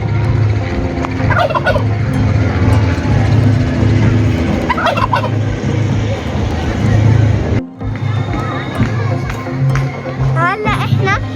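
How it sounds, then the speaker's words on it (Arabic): White turkeys gobbling repeatedly at a bird park, loud and close, with bursts of rattling calls over a lively background of children's chatter and crowd noise. "احنا هلا الديك الرومي، طلعوا ما أحلاه."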